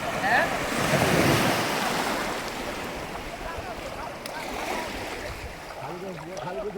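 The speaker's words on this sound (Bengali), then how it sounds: "কক্সবাজারে ঢেউটা বেশি আর এখানকার ঢেউটা কিন্তু কম" Ocean waves wash onto a beach in Bhola district, a swelling rush that fades into softer surf, with wind buffeting the microphone and faint voices in the background.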